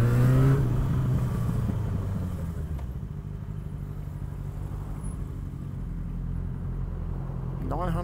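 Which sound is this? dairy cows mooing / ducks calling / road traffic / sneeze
road traffic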